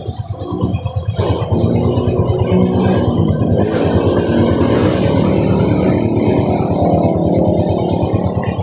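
A Honda TMX 125 Alpha motorcycle engine runs close by after a brief lower start, settling into a loud, steady, rapidly pulsing putter that continues without talk.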